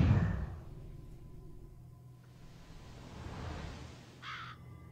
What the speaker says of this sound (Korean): 까마귀.